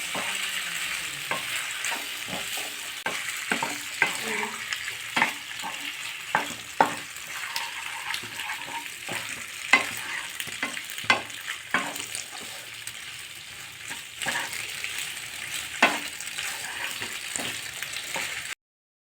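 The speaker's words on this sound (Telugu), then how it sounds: "ఇందులో పాస్తా అనేది వేసేయండి. వేసేసి బాగా మిక్స్ చేయండి వీటన్నిటికీ పట్టేటట్టు." Pasta being stirred into a boiled sauce gives a long, steady run of wet mixing and scraping, with frequent soft knocks of the spoon against the pot, close and continuous, without speech.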